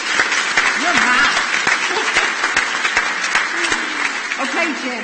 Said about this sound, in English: I think we should applaud her, though.